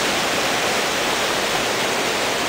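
Water rushing over a mountain dam in low water, a loud, dense, unbroken roar close at hand with no voices.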